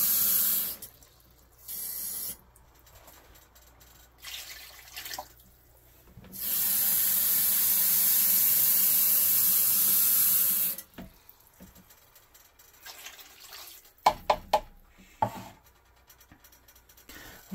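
Water is poured into a pot of red beans with bay leaves and reserved soaking liquid, a steady rushing splash lasting about four seconds, preceded by shorter bursts and followed by a few clinks and knocks.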